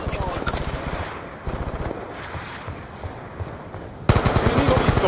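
Rapid automatic gunfire from a Black Ops 2 match rattles in dense, loud bursts across the whole stretch, dipping briefly then surging harder near the end, with game voices shouting underneath.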